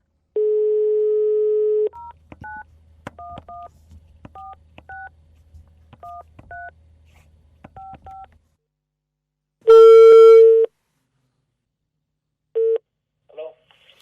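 A telephone dial tone hums for a couple of seconds, then a string of keypad beeps is dialled. Later come a louder ringing tone and a few short beeps, all clear and close.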